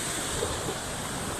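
Steady ocean surf rolls in a continuous, broadband wash with wind noise buffeting the microphone, and no voices stand out.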